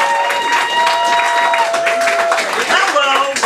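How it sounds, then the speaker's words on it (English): An audience at a comedy show claps and cheers for a stand-up comedian coming on stage, dense continuous applause with voices mixed in. "Let's start clapping right now, everybody."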